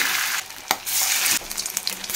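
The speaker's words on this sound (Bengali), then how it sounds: "এরপরে এই চিকেনগুলোকে ভেজে নেবো হালকা করে।" Chicken pieces sizzle in hot white oil in a kadai, a dense steady frying hiss with brief breaks and small spattering bursts, close and alone without talk.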